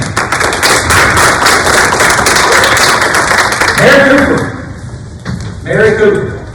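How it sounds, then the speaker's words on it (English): Audience clapping at a school board meeting, a dense round of applause filling most of the moment, then fading as a voice begins speaking near the end. "Clap up again."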